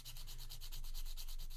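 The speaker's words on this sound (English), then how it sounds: "now all I'll have to do is do some sanding and get that down to the diameter that I want" Sanding a kitbashed Della Duck figure's leg part down to size, quick rhythmic back-and-forth scratchy strokes, close and even with no voices.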